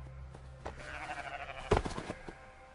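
Sheep flock with a newborn lamb, several close bleats in quick succession, including one louder cry midway, over a quiet outdoor background.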